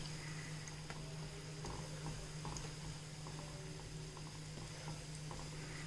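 Khajaas frying in hot oil, a soft steady bubbling and faint crackle with a low continuous hum underneath, no voices.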